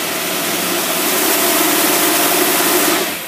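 Carbureted engine running smoothly, a steady close mid-pitched hum and hiss that swells slightly in the middle before easing off at the end.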